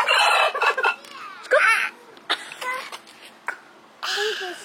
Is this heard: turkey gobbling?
yes